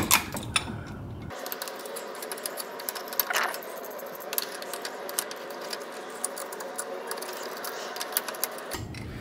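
Light metallic ticking, clicking and small rattles as a C-clamp is screwed in to press back the brake caliper pistons on a C5 Corvette, steady and close over a low hum, without speech.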